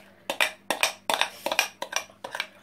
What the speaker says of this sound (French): Attends, je prends une cuillère.